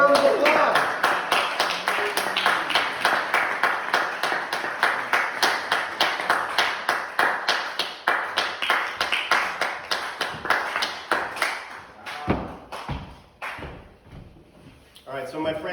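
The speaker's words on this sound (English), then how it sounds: "Give him a round of applause." Audience at a poetry reading launch applauding a poet, rhythmic steady clapping from a modest crowd for several seconds, thinning to a few sharp isolated claps and knocks at the end.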